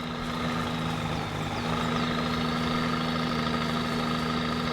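A Peterbilt truck in the Spintires video game, its engine droning loudly and steadily in high gear as it powers through a mud hole, with a constant low rumble.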